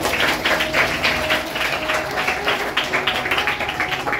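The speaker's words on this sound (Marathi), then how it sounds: "सौ कांचन हिरेमठ मॅडम याही या ठिकाणी उपस्थित आहेत, त्यांचे आपण टाळ्या वाजवून स्वागत करूया." An audience at a school charity event where students receive study supplies applauds to welcome a guest, a steady, dense burst of many hands clapping that continues loudly throughout.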